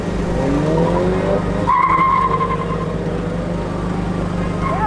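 A race car at speed on a track in Portland, loud and close, with a sustained engine drone and tire skidding or squeal through the run, plus a brief whine near the end.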